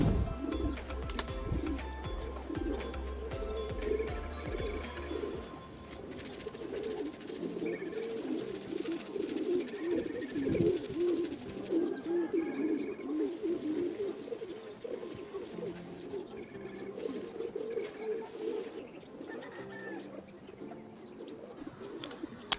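Racing pigeons coo repeatedly in soft, rolling phrases, close by, over a low background hum with occasional faint chirps.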